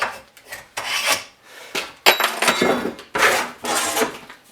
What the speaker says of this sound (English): So I'll just trace the outside, that way the weld can go to the outside and get ground down. And just do this quickly with my scribe.